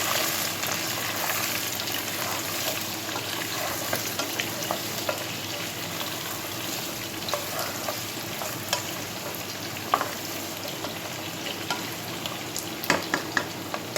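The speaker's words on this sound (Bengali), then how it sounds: "কেটে রাখা আলুগুলো আমি সব দিয়ে দিলাম, দিয়ে এটাকে ভালো করে 2-4 বার এইভাবে কষিয়ে নেব।" Cut potatoes frying in a pan while being stirred, a steady oily sizzle with occasional scraping knocks and clicks of the spatula, continuous and close with no talking.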